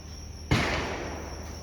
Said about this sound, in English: Probably fireworks.